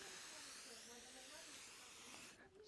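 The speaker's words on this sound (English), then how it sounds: "I'm spraying." Sustained steady hiss of a spray bottle misting, continuous for a couple of seconds and fairly close, tapering off at the end.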